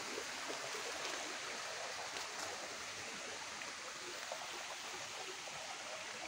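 Shallow river water during the dry season flows as a constant, even rushing hiss. The sound is close and unbroken, with no voices.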